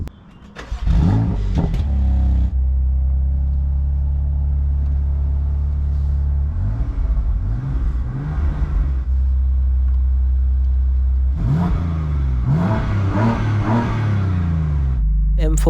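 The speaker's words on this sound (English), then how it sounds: "Now let's fire up the engine." A BMW M4 Competition convertible's 3.0-litre twin-turbo engine starts and revs in several loud, rising bursts with idle between them, heard up close.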